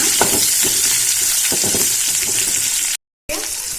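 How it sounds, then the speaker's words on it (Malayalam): Chopped onion frying in a pan for chicken pola, a steady close sizzle with scattered stirring clicks and scrapes, briefly cut to silence near the end before the frying resumes. "ഞാൻ ഉള്ളി അരിഞ്ഞിട്ടുണ്ട്. നന്നായി ഫ്രൈ ചെയ്തെടുക്കുക."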